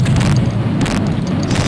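A loud, close rocket-launcher explosion in the video game Shadow Warrior, a heavy, sustained rumbling boom that fills the whole moment with no voice over it.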